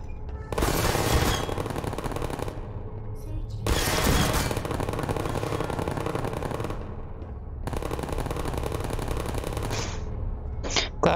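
Sentry turrets in the video game Portal fire long rapid bursts of gunfire, three sustained loud volleys separated by brief gaps, with small clicks at the end.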